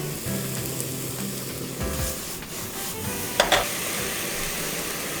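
Garlic and onion with a couple of pinches of salt sauté in a pan, stirred toward caramelising: a soft, continuous sizzle with scraping strokes and a short utensil clatter partway through.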